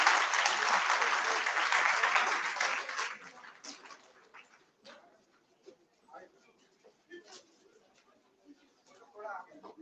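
A conference audience at a technology and management event in New Delhi bursts into loud applause that fades out after about three seconds, leaving a quieter room with scattered shuffles and brief voices.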